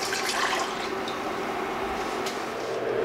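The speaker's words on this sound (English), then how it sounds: "And to this I'm going to add about 2 liters here of cold water." About 2 liters of cold water pour steadily into a saucepan, a continuous close splashing rush that runs the whole time without talk.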